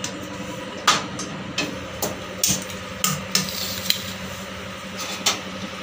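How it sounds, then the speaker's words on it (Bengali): Black gram dry-roasted with chilli, fennel, coriander, cumin and black pepper in a wok, faint sizzle under a run of sharp spatula scrapes and clinks at a steady, uneven pace, fairly close. "এবার এই কাঠকলাই কড়াই ভেজে নেব।"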